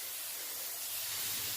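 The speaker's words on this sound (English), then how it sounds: "now we're going to pre-spray." Carpet cleaning pre-spray sprayer misting steadily nearby, a continuous broad hiss that holds even and alone for the whole stretch.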